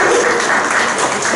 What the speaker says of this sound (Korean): 다시 큰 박수 부탁드리도록 하겠습니다.